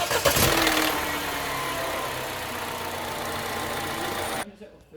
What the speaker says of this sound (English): I'm going to fire it up with the flush in, leave it for 10 minutes to get warm